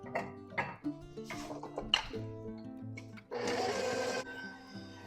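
A kitchen mixer whirs steadily for about a second as it spins a fruit slice mixture, set among close clatter and knocks from bowls and utensils.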